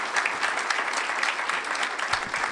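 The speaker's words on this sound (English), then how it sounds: "So let's give her a round of applause as she comes forward." Steady applause from an audience at a Women's History Month celebration, a continuous wash of clapping at moderate loudness with no voices on top.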